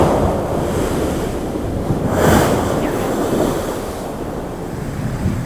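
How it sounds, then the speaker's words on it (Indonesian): Ocean waves crash steadily against coastal cliffs at Batu Pica Beach on Biak Island, a continuous roaring surf with wind noise and a louder surge near the middle. "Deburan ombak bagai irama alam yang menghantam tebing pantai"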